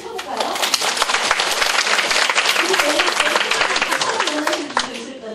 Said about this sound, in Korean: 자신들을 위해서 박수 한번 크게 한번 쳐볼까요?